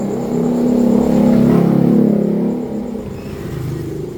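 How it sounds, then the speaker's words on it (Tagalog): Loud motorcycles pass by on a nearby road, a swelling engine roar that peaks and fades, then a lower rumble continues. "pasensya na napakaingay ng mga dumadaan na motor"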